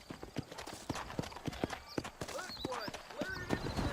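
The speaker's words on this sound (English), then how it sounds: "let's mount up and hit the trail" Horse hooves clip-clop at a steady riding pace while leaving town in the Western video game Red Dead Redemption, the rhythmic hoofbeats close and clear, with a horse's whinny briefly rising and a voice talking over part of it.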